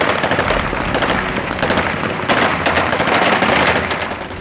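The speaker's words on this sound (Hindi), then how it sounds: "तालिबान के लड़ाकों ने गोलियां दागकर जश्न मनाया" Taliban fighters fire rapid celebratory gunfire in Kabul, dense continuous bursts of automatic shots overlapping in loud, echoing volleys with no pause.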